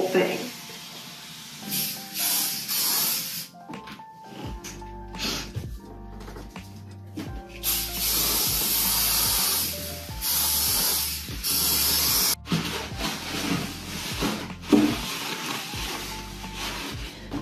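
Repeated bursts of bathroom cleaner spray hiss over a bathtub, short and close, broken up by pauses, with a low intermittent hum running underneath.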